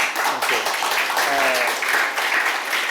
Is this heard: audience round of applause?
yes